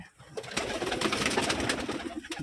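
Pigeons coo steadily inside a loft in Rajshahi where birds sit on eggs and chicks, a dense, close chorus of overlapping calls with no pauses.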